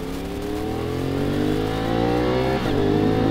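A CFMOTO 450SR motorcycle fitted with a quick shifter revs up loud and close, its rising engine whine climbing steadily, then breaking briefly as it shifts before pulling up again.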